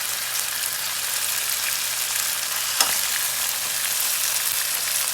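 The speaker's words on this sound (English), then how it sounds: "Listen to that sizzle like that." Rice sizzling in a hot pot over chicken and yogurt for saffron chicken tahchin, a loud, steady, close frying hiss with a faint tap partway through.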